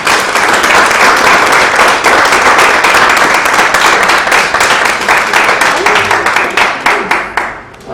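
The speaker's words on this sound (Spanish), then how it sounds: "Un aplauso para ustedes." An audience bursts into loud, close applause, many hands clapping densely for several seconds before the sound breaks into scattered claps and fades out.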